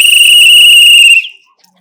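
A person whistles a single loud, steady, sustained note in celebration, holding it for over a second before it cuts off into quiet.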